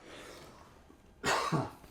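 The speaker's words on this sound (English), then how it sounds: "right after I cough" A single sharp cough comes close to the microphone near the end, after a quiet stretch, during a potato chip taste test.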